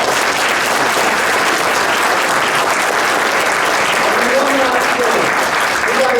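Steady, dense applause from a large audience continues throughout, loud and even with no pauses.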